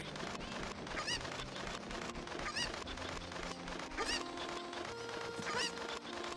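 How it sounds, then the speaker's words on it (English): A chicken in the video game The Legend of Zelda: Ocarina of Time gives repeated honking, squawking clucks at a steady rhythm. They ring out over a loud, busy game music and effects bed, with no talk. "Just gonna borrow your chicken real quick."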